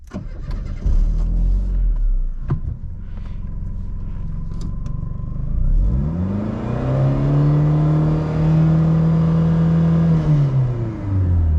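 A 22-year-old Renault Megane Coupe engine with 355,000 km idles low and steady, then revs up into a loud, rising drone that holds and eases back, close by with no talk.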